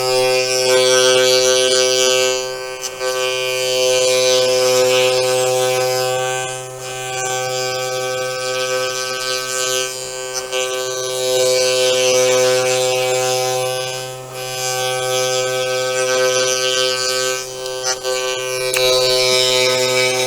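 Sainsmart 4040 Pro CNC router spindle spinning at about 8,000 RPM while cutting timber tenons, a loud steady whine with strong tonal hum that dips briefly a few times as the cutter moves through the wood.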